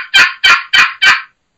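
A single-sided wooden turkey box call worked by hand, giving four loud, raspy yelps in an even rhythm, each about a quarter second long, close up with nothing else heard.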